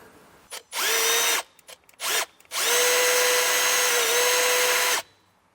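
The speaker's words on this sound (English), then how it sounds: "going to use a small drill bit, small enough that it will fit through that" A power drill with a small bit bores through the dash of a 2019 Chevrolet, close and loud, in two short bursts followed by one long sustained run, with no talk.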